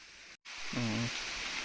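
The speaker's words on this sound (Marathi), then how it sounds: "बरंच पाऊस आला" Heavy rain falling outdoors makes a steady, dense hiss, interrupted by a momentary drop-out and a short low humming tone partway through.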